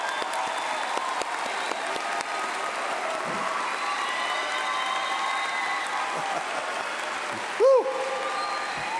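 Sustained applause from a standing graduation ceremony audience, steady and broad throughout, with a single loud cheer breaking out near the end.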